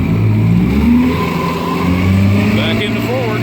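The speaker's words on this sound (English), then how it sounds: "This is a 24-to-1 motor, and it is running on 24-to-1 Pennzoil synthetic non-ethanol fuel today." A 1959 Evinrude Sportwin 10 hp outboard motor runs on 24-to-1 fuel during a pond test, with a steady close mid-pitched engine drone whose pitch shifts slightly, under someone talking.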